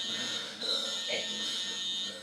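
A steady high-pitched electronic buzzer tone runs throughout, moderately loud, with soft breathing-like swells mixed underneath.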